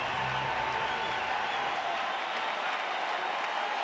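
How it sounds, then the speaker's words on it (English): Baseball crowd on its feet cheering at a Mets at Rockies game with the bases loaded, a steady dense roar of voices and applause filling the stadium throughout. "the crowd is on their feet"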